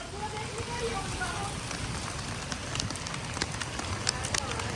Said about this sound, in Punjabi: ਲੈ ਮੀਂਹ ਹੋਰ ਤੇਜ਼ ਹੋ ਗਿਆ